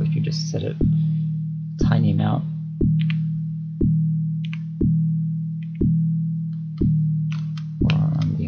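An FM synth patch on the M8 Tracker with wobble added: a sustained low tone with a rhythmic pulsing modulation, re-triggered about once a second, loud and steady, with brief talk at a couple of points.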